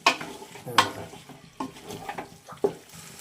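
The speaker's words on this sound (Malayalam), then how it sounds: "നന്നായിട്ട് ഇളക്കുക." A spoon stirs chicken Thalassery dum biryani masala in a pot, scraping and clinking in a few uneven strokes over a low sizzle, close and moderately loud with no talking.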